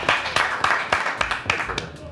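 A studio audience at a TV show claps in quick, regular beats, with brief talk mixed in.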